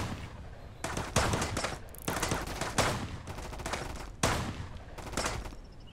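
Rifle shots in the survival game Mist Survival: several loud, sharp reports in quick sequence, each decaying briefly before the next, with no speech over them.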